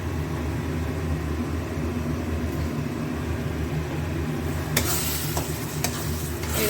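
Pointed gourd fries and sputters gently in a pan, a steady, moderately close sizzle. A few sharper scraping clicks from stirring come near the end.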